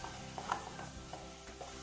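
Sago papads (sabbakki sandige) fry in hot oil, a faint steady sizzle with soft bubbling crackle and one small clink, brief and continuous at low volume.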